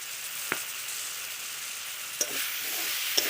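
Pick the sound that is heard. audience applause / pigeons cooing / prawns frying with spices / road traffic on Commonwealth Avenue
prawns frying with spices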